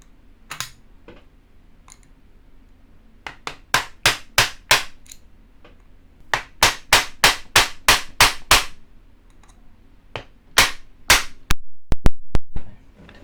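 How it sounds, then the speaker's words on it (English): Sharp metallic taps of a screwdriver driven like a punch against the pins of a Smith and Wesson 1000 20 gauge shotgun, coming in quick bursts of four to eight close, loud strikes separated by short pauses, with no talking. "Take a screwdriver here and use it as a punch."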